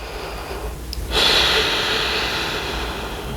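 Near the mic, a person holding a yoga balancing pose takes a sharp inhale through the nose followed by a long, steady breath out.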